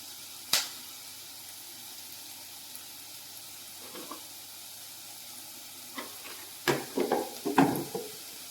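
Cumin seeds roasting in a pan for onion chutney give a faint, steady low sizzle with a sharp clink near the start and a few louder stirring scrapes toward the end.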